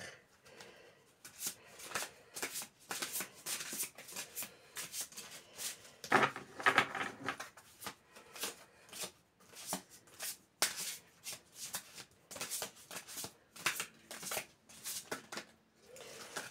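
Oracle cards for a card reading being shuffled by hand in repeated soft riffling bursts, close and quiet, with an irregular rhythm and brief pauses between shuffles.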